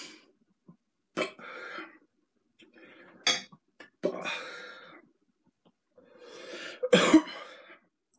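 A person coughs and clears their throat after eating very hot spicy noodles, giving several rough, close bursts spread across the clip with breathy pauses and quiet mouth sounds between them.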